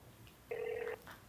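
A single telephone ring tone sounds once, brief and fairly quiet, on a call to the IRS, with faint background before and after.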